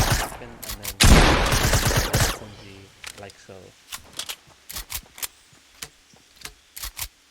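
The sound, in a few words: SMG gunfire in Fortnite video game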